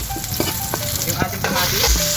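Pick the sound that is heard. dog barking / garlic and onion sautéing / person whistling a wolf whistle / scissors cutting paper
garlic and onion sautéing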